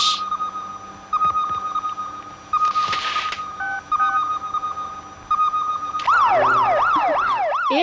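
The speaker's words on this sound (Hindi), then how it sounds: "ये फायर ब्रिगेड की आवाज" A fire brigade siren sounds in a film scene. Steady electronic beeps and tones come first, then a loud, rapidly wailing siren rises and falls near the end.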